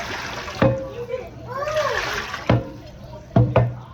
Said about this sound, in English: Let some of this water out.